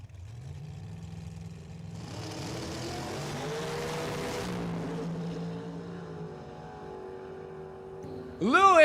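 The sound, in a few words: drag race run, 1956 Chevy Shoebox and Pontiac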